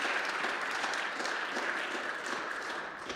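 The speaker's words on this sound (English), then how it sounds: "So we got applause for participation" An audience applauds at a conference panel, with dense, even clapping from a crowd that sounds somewhat distant and stays steady throughout.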